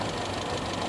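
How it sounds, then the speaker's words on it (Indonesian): Toyota Kijang engine set up with independent ignition idles roughly and shakes, giving a close, steady knocking rumble with no one talking. "Nah, ini mesinnya masih goncang-goncang."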